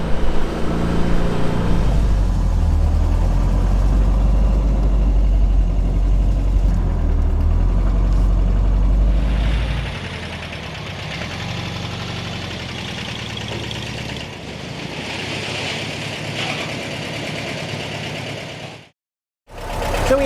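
A carbureted Speedster car engine idling, a loud steady close rumble with a deep low throb that softens partway through, then cuts out briefly near the end before returning.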